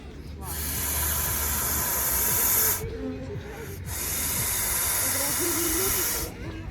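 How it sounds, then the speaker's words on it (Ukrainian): A bottle of sparkling water opened with a long, loud gassy hiss in two bursts separated by a short pause, with faint voices underneath. "Зараз я тобі відкрию газована трошки"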